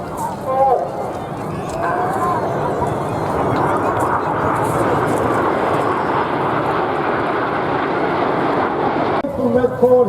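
RAF Red Arrows jets flying in formation roar overhead in a broad, swelling rush that builds and holds for several seconds before cutting off, heard loud beneath an ongoing spoken commentary.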